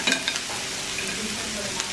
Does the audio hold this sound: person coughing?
no